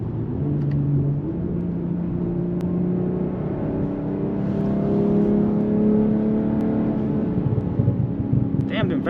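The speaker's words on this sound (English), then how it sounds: "Damn, them backfires." A BMW M340i with a B58 engine pulls in third gear from a rolling start, its drone climbing steadily in pitch inside the cabin, with a few sharp isolated pops from backfires punctuating the run.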